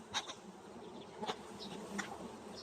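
Carniolan honey bees hum faintly at their hive, a soft steady drone with a few brief, slightly louder buzzes as individual bees pass close.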